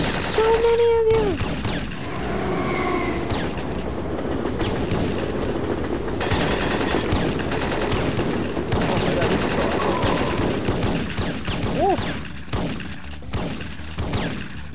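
Bursts of gunfire from Syphon Filter rattle almost continuously, with machine-gun fire and single shots mixed together, loud and dense, while a voice briefly cries out over the shooting.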